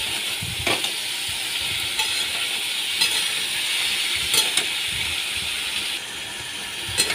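Chopped green jackfruit fries in a pan with a steady, close hiss and sizzle, broken by a few brief stirring knocks, and no voices.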